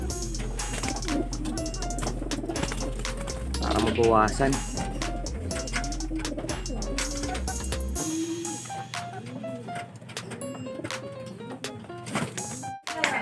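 Soft pigeon coos repeat in the background while a person talks over them, with other bird calls mixed in nearby.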